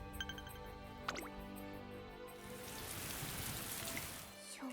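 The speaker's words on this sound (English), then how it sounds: "Water everywhere, and the rain's only getting stronger." Steady rain pours in the video game Umamusume, a dense even hiss that swells slightly louder toward the end, with faint chimes and a brief swoop early on and no talk.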